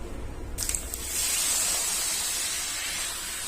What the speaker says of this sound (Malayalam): എന്നിട്ട് ഓരോന്നായിട്ട് വറുത്തെടുക്കാം